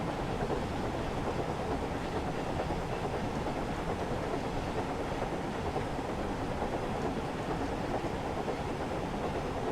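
Thomas the tank engine rolling slowly toward Lewes in Train Sim World 5 gives a steady, continuous rumble of wheels and running gear, even in level throughout with no talk.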